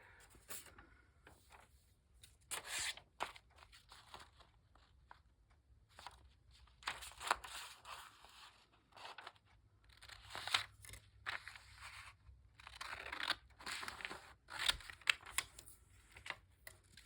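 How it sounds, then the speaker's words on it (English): Scissors trimming a piece of vellum paper, close, quiet crisp snips and crunchy cuts coming in irregular bursts with short pauses between. "So I'm gonna just cut a piece so I can put a piece of vellum down in here."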